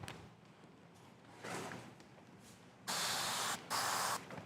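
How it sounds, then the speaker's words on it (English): Spray nozzle rinsing the inside of a 2012 car's rear window during window tint work, with a faint hiss at first, then two loud, close bursts of spray separated by a brief pause, alongside light handling noises. "we're gonna rinse this out"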